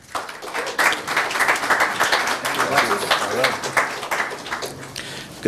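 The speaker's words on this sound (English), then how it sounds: "Give him a big round of applause." An office-opening audience gives the CEO a big round of applause. The clapping is full and sustained, with voices mixed in beneath it, and it rises sharply again at the very end.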